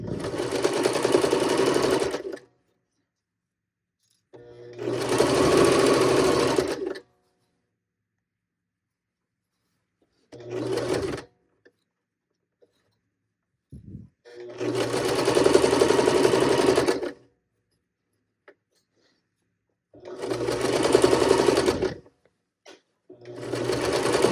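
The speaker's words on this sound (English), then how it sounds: "And so now I'm going to go ahead and start stitching." A sewing machine stitches the hem of PJ shorts in several steady whirring runs, each a few seconds long, separated by silent pauses, close and clear with no talk.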